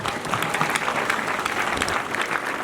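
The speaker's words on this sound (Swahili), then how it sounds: "Wapi makofi mazuri kwa Yesu." Crowd of students and parents at a school event clapping in praise, a brief burst of dense, lively applause filling the room at steady volume.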